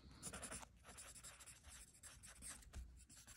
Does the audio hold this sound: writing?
yes